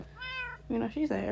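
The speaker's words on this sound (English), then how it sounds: "And that's my cat." A Minecraft cat lets out one short, clear meow, followed right away by a person speaking.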